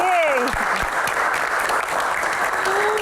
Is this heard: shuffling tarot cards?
no